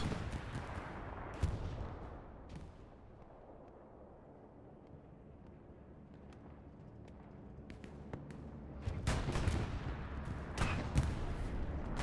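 A wartime video game battle with a bombing run: heavy booming blasts and bursts of gunfire, some distant and rumbling, others closer and clustered toward the end, with no talking.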